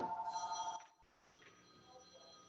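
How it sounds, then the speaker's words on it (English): A telephone rings with a steady electronic tone for under a second before cutting off, leaving a quiet room with faint background sound. "I'm sorry, but my phone is ringing here."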